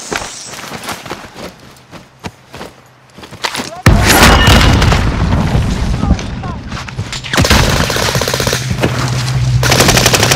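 Video game gunfire in Caldera, sharp shots and rapid automatic bursts at first, then a dense, loud barrage of continuous firing and booms filling the rest, with voices faintly mixed in.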